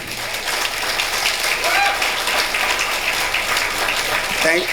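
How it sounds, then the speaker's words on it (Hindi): An audience at an inspirational evening event applauds for Rajender, steady moderate clapping spread across the room with a voice speaking over it. "एक बार जोरदार ताली भैया के लिए बजा दें"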